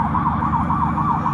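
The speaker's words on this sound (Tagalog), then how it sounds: "may wangwang na" Emergency vehicle siren wailing in a steady rising-and-falling cycle, fairly loud and continuous over a low traffic rumble in Tangos, Navotas, with no talking.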